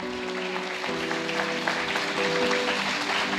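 Applause from a church congregation fills the room, a dense, continuous patter that builds slightly toward the end over a sustained musical tone.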